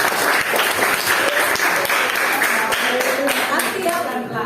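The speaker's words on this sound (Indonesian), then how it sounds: "tepuk tangan dulu kasih Kiendra" Classroom applause for a student, a dense burst of many hands clapping steadily and close, fairly loud throughout, with voices mixed in underneath.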